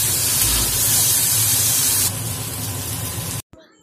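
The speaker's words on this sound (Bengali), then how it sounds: "এবার আমি বাটা মশলাটা এর মধ্যে দিয়ে দিচ্ছি" A ground paste of ginger, garlic and onion hits hot oil in a pan and erupts into a loud, spraying hiss. The sizzle eases partway through, then cuts off abruptly, leaving a faint rattle.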